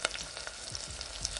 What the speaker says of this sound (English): Let's start frying this chicken pieces very well.